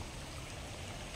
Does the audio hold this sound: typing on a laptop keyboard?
no